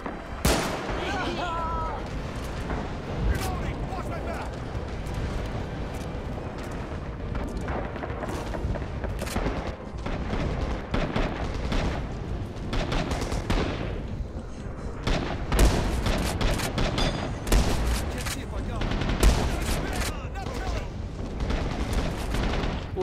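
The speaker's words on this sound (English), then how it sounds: "Whoever the hell is shelling over here" Artillery shelling in the Rising Storm game, with booming impacts and crackling gunfire running continuously through a dense, loud battle din, heaviest toward the middle and end.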